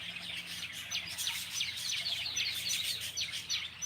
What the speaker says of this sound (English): Birds around here irritating me now.